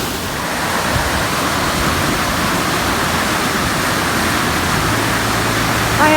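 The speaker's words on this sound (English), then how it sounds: "we've just got a little trickle of water coming down there" Water rushes steadily and loudly into a canal lock on the Kennet & Avon as a narrowboat waits to enter, a broad continuous wash of flow with a low engine hum joining near the end.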